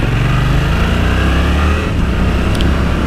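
A Yamaha R7 with its CP2 twin engine in the restricted A2 version pulls away under throttle, a loud, steady engine drone with rising tone, heard from the rider's position with wind rush.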